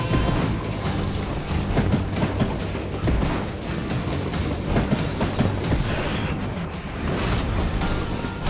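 Train ride in the video game Call of Juarez Gunslinger: a continuous rumbling, rattling rail roll with faint rhythmic clatter, moderately loud and steady throughout, with no voices.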